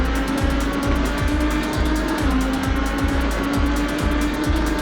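GT3 race cars roar around Brands Hatch in a racing video game, a loud sustained engine drone with rhythmic repeating pulses and tire noise, no voices.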